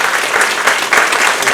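A room full of employees at an all-associate company meeting bursts into loud, dense applause, a close, steady roar of clapping that lasts the whole short moment.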